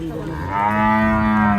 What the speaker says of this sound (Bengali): সুন্দর গাভী বাসুর